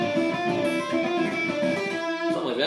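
Electric guitar playing a lick from the middle section of a song with hybrid picking, a quick run of bright, repeated plucked notes, close and steady, with no talking.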